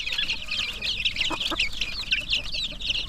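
Turkeys chatter and cluck as a flock, a busy continuous layer of bird calls with a few louder calls rising near the middle.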